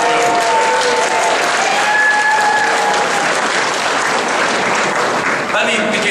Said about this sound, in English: let's all give a loud round of applause to the great Ted Lieu